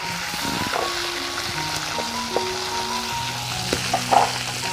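Chopped onion hitting oil in a pan for a Bengali chicken curry, frying with a steady close sizzle and crackle throughout, a few brief stir clinks and pops near the end, no talk.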